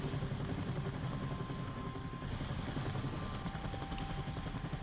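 A Hind attack helicopter in a night-time military video game flies past with a steady, dense rotor and engine drone, held at a fairly constant level throughout without any talk.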